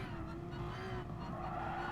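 Car tires skid and squeal through a drift in Gran Turismo Sport, a Porsche Cup race car at speed with engine roar steady and loud throughout, no talking.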